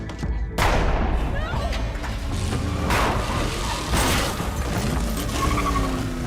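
Gunfire in a movie shootout between a police officer's wife and a fleeing attacker, with sharp loud bangs and thuds over a dense, busy dramatic soundtrack and background voices.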